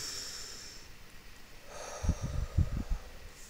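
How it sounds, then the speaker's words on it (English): A slow, deep inhale during a guided relaxation and tapping session comes as a few soft, breathy bursts close to the mic in the second half, after quiet room tone. "Taking a deep breath in."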